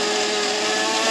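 A blender grinds nuts into powder with a steady, loud high-pitched whir, continuous and close throughout the short burst.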